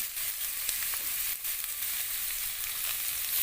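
Potato pieces frying in oil for a spicy, chili-red Bengali potato fry give off a steady, dense sizzle, close and even throughout, with no talk over it.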